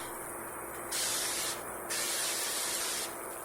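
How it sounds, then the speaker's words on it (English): Two bursts of avocado oil cooking spray hiss loudly, each lasting under a second, separated by brief pauses, close by. "I'm going to use some of my avocado spray."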